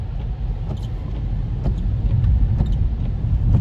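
Road traffic heard from inside a moving vehicle passing through Sleepy Hollow, a steady low rumble of tires and engines with faint passing whooshes and no talk.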